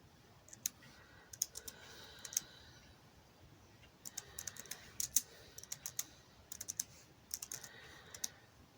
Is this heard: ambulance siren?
no